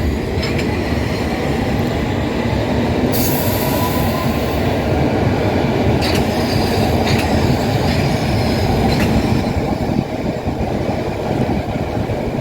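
London Underground tube train running near West Harrow, a steady loud rumble of wheels on rail with clickety-clack beats and faint wheel squeal throughout, no talk.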